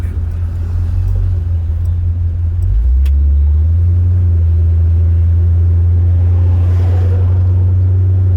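A 1974 Chevrolet Corvette with a 454 LS4 V8 and automatic transmission driving on the road, a deep, loud, steady engine rumble that drops briefly with a gear change and then holds as the car cruises.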